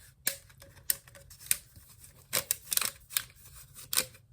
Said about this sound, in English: So we've got this poster, I assume, if I can unwrap it.